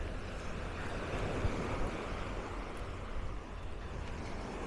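Waves wash steadily onto a quiet Pattaya beach in Thailand, a faint, continuous soft rush of surf mixed with light wind noise on the microphone, no voices present.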